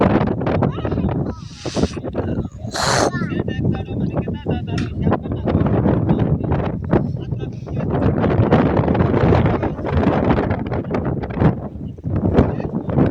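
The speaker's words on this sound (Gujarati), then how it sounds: "બહુ મસ્ત પવન છે ઠંડુ વાતાવરણ છે" Strong cold wind blows across a groundnut farm field, roaring steadily and buffeting the microphone throughout, with brief gusts and rustling.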